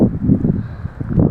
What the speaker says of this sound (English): It's awful windy out there.